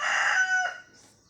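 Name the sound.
rooster crowing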